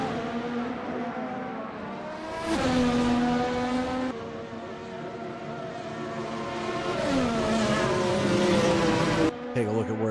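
Engines of F1 racing cars in a video game drone along pit road, holding a steady pitch and then swelling louder twice as they rev, with a brief cut near the end.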